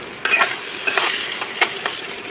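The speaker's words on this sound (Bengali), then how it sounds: "মশলার ভিতরে কষাচ্ছি আমরা" Spices with potato sizzling and being stirred in oil for a Bengali katla fish curry, a steady close frying hiss broken by several sharp scraping stirs, no voices.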